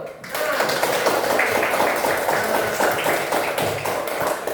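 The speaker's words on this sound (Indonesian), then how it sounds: "Nah, kita tepuk tangan dulu" Schoolchildren in a classroom clapping their hands together on a teacher's cue, a loud, busy, sustained patter of many small hands starting abruptly and continuing steadily.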